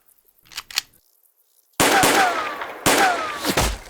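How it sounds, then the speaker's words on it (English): Two loud, close gunshots ring out in a western audio drama, each blast sharp and followed by a long ricochet-like decay, after a quiet stretch with faint sounds. "Who's shooting at us?"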